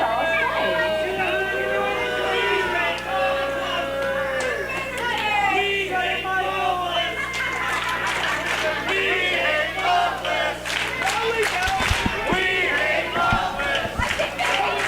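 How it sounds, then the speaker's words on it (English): At a live wrestling event, a crowd chants a taunt in loud, rhythmic unison, the voices swelling and repeating while scattered claps and shouts break through near the end. "The crowd chanting, "We hate Loveless.""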